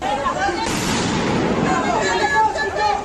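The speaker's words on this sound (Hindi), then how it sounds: "इस दौरान वहां एक जोरदार धमाका हुआ।" Loud blast-like bursts amid violent clashes at a Paris refugee camp, with continuous crowd noise and shouting throughout, sharp bangs rising over the dense babble near the start and end.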